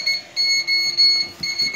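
An egg incubator alarm beeps with its lid open, a high electronic tone pulsing in uneven bursts, fairly loud and close, with faint handling noises underneath.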